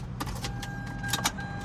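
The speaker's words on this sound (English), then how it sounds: "you can hear how rattly the transmission is" Rattly transmission of a Spyder car idling in first gear, a steady low mechanical drone with clattering ticks and a faint whine over it, close and continuous.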